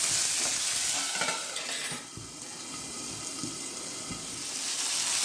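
Green peas fry in a pan with green chillies, a steady close sizzle with occasional small pops and stirring scrapes, dipping briefly as if covered, then swelling again.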